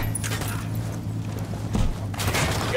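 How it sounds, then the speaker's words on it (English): Dense bursts of gunfire in the shooter game Ghost Recon Wildlands, a steady low rumble with clustered rapid shots rising and falling, loud and close. "opening fire on these fuckers"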